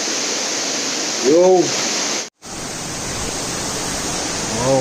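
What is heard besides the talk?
rushing water of Cane River, Jamaica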